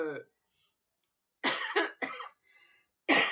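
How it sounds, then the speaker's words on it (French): Several harsh, close coughs in short bursts separated by brief silences. "je finis l'année en toussant"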